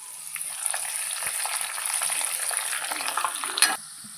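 Onion, cashews and curry leaves sizzle steadily in hot oil in a pan, a continuous close frying crackle with small pops and a brief louder burst near the end.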